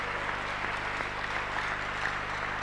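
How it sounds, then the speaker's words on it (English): A church congregation applauds during a worship service, a dense, even wash of many hands clapping together at moderate volume with a low hum beneath, sustained without a break. "Clap for Jesus."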